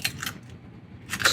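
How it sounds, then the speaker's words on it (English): Eggs cracked one after another into a mixing bowl while making blue corn bread: two short, crisp cracking taps near the start and end, close and fairly quiet, with a soft lull in between. "So let's get these eggs cracked"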